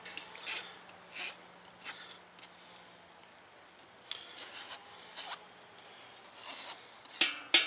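Hot peppers being grated for a mild hot sauce, a series of short rasping scrapes in irregular strokes, close and fairly quiet with pauses between, no talking.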